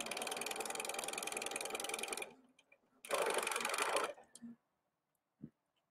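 A home sewing machine runs a zigzag stitch on leggings fabric in two quick bursts of rapid, close whirring and clatter separated by a short pause, followed by a few soft clicks.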